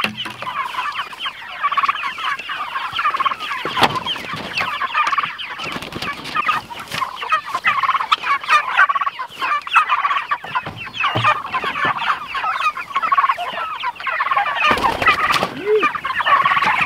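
Turkeys gobble repeatedly in a busy chorus, rapid warbling calls overlapping continuously with scattered clucks and rustling nearby.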